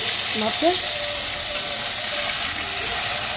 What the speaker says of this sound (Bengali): মাছগুলো ভাজা বসাইছি, তোমাদের দেখাইনি কেন, এইগুলো মাছ খুব ফুটে